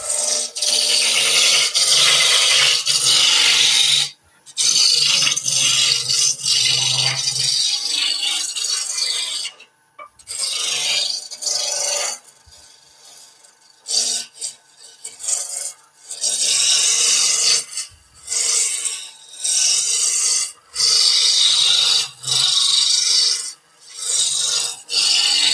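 A wood rasp tapers a garden fork handle in loud, close rasping strokes, repeated in bursts with short pauses between them and no talking.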